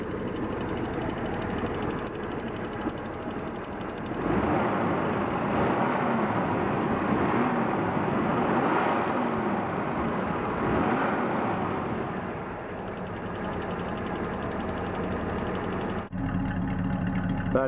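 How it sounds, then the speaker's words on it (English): A 1969 AMX car engine in Willow Green with the Go Pack idles steadily, a dense continuous rumble that swells slightly in the middle and settles, with a brief clunk near the end. "Now I'm going to start the car. See, it settles down to a nice idle."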